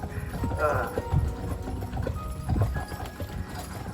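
Hooves of carriage horses clip-clop in an uneven rhythm at close range on Mackinac Island, with a few louder steps standing out against a busy outdoor background.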